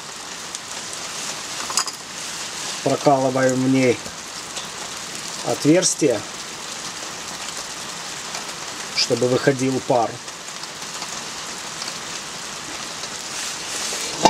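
Steady rain falls outdoors while Samarkand pilaf is being cooked, a constant hiss of drops on surfaces that runs through the whole clip beneath someone speaking in short phrases.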